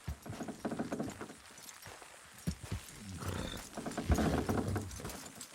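Steady clip-clop of horse hooves at a walking pace in the video game Red Dead Redemption 2, fairly close, with some creaking and rumbling movement mixed in.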